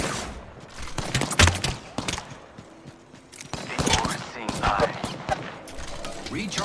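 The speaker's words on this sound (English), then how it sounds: "I am taking fire, friends." Gunfire in the battle royale shooter Apex Legends: scattered sharp shots and short bursts ring out among clattering mechanical sounds and footsteps, some of the shots close and loud, with a voice speaking at times.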